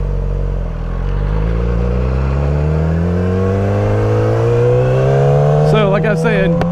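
A 2007 Yamaha R6 sport bike accelerates at full throttle, its loud engine note climbing steadily in pitch as the revs build over several seconds, close to the listener.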